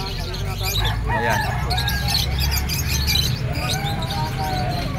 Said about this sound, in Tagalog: Iba't ibang uri ng kalapati.